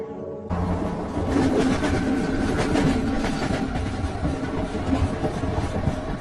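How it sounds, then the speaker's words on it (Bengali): A train travels along the rails as a sound effect in a Bengali horror audio story, starting abruptly after a brief quiet and then rumbling on as a dense, steady, close rattle and roar with no voices. "ট্রেনে যেতে যেতে ব্যাপারটা যতই ভেবে দেখছিলাম ততই আরো অদ্ভুত লাগছিল।"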